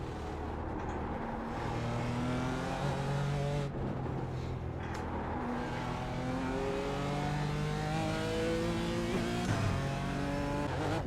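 A BMW M4 race car in iRacing revs hard through repeated upshifts, its engine note climbing and dropping in steady waves near the redline, loud and continuous without talk.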